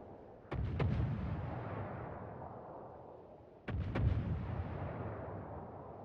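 Two heavy naval gun salvos in World of Warships, each a booming multi-shot blast followed by a long rumbling decay, loud and alone without voices.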